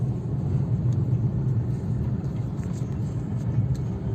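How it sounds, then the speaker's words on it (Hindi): Light road traffic in Ankleshwar city near a bus stand makes a steady, close rumble of passing vehicles, with no break in the din. "यहाँ जैसा कि आप देख रहे हो छोटा मोटा ट्रैफिक मिलेगा"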